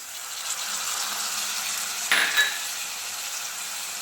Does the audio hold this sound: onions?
yes